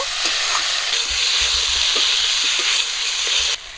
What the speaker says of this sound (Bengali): মশলাটা দিয়ে আবারও কিছুক্ষণ একটু ভাজা ভাজা করে নেব